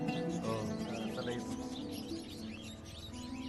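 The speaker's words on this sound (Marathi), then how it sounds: "चिमणे ऐकता तुम्ही?" Sparrows chirp in quick, high repeated calls through a busy outdoor background, with people talking over them throughout.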